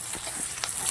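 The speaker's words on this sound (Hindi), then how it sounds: "प्याज डालने के बाद अब हम इसे अच्छे से भून लेंगे ताकि अच्छे से पक जाए।" Onion, garlic and chili fry in a pan with a soft, steady sizzle and a couple of faint stirring scrapes, brief and close, no voices.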